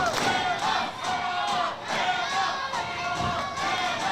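A crowd at a youth baseball World Series game between Alabama and Georgia cheers and shouts in rising bursts, with loud surges of voices and a few thuds throughout.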